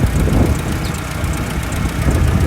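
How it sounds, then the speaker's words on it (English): A 1952 Austin Champ military vehicle with its Rolls-Royce-designed engine idles nearby, a steady low rumble with a smooth, even rhythm and no tapping or rattling, heard alone. "And have a little listen to the engine."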